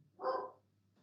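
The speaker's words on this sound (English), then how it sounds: "I'm assuming you can hear that dog." A single dog bark, sharp and fairly close, rising out of a quiet committee-meeting room with a low steady hum underneath, then fading back to near silence.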